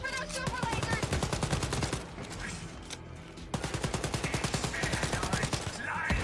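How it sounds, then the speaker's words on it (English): Rapid bursts of automatic gunfire in the shooter game Wolfenstein: Youngblood, sustained rattling volleys with a brief lull midway, loud and close under game music and effects. "I'm shooting him!"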